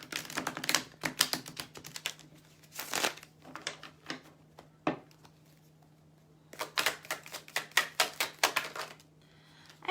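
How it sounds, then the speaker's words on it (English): Deviant Moon tarot cards shuffled in quick bursts of papery riffling and flicking, close and fairly quiet, with brief pauses between runs and no talking. "Let me just shuffle real quick."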